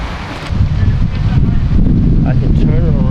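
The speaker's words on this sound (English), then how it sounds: "It's pretty windy today as well." Strong gusty wind buffets the microphone outdoors while a drone is flown, a steady loud low rumble with rustling throughout, getting louder after the first half second.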